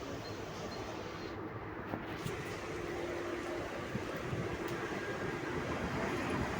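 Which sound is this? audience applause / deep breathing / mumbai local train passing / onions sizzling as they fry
mumbai local train passing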